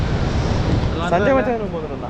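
Athirapally waterfall in Kerala, a steady broad roar of rushing water close by, with a voice speaking over it partway through.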